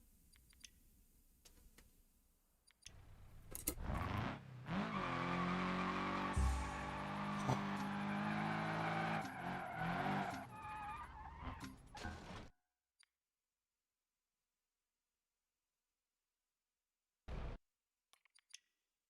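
A car in a video game skids loudly after missing the handbrake, a strained squealing engine-and-tire sound lasting several seconds before cutting off abruptly, followed by silence and one brief burst.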